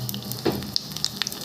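Oil sizzles in a pan before onions and colored peppers go in for Turkish-style shakshuka, a close steady hiss with a few sharp crackles and pops, no talking.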